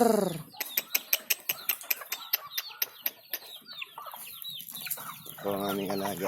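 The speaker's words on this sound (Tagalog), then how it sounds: "mag-alaga po kayo native para dumami din ang inyong manok" Native chickens cluck close up in a run of sharp, quick clucks and cackles, followed by a more drawn-out call near the end.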